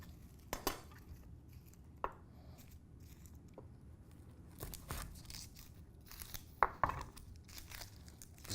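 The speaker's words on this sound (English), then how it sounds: "Just get the paper off our shallot." Dry, papery shallot skin is peeled off by hand in a quiet kitchen, heard as sparse crinkles and small crackling snaps scattered between soft handling noises.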